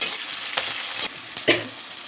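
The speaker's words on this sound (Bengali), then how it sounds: "তো টমেটো আর পেঁয়াজটা একসঙ্গেই ভেজে নেব" Onion and tomato fry together in a pan with a steady close sizzle, broken by a few sharp scrapes and stirs of a utensil.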